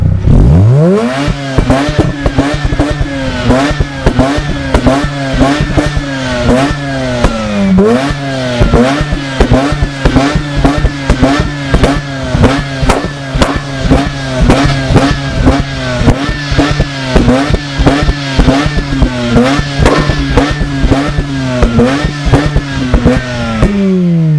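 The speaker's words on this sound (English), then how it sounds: "Most of it was just backfire, which is when the fuel ignites further back in the exhaust and creates a nice bang instead of shooting a flame." Mazda RX8 rotary engine revved repeatedly in damp, foggy air, loud and close, with rapid sharp exhaust backfire pops and crackles riding over each rev cycle throughout.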